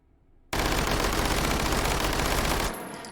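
An Uzi Micro fitted with a compensator in the VR shooter H3VR fires one continuous, very fast full-auto burst lasting just over two seconds, close and loud, then cuts off abruptly.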